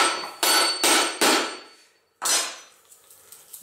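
Coconut being struck hard to crack it open, four sharp, loud knocks in quick succession, a brief pause, then a fifth heavier blow with a short, fading rattle afterward.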